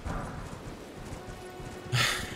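A horse's hooves clip-clop in a steady gallop during riding in Elden Ring, close and moderately loud, with a sharp brighter burst of sound near the end.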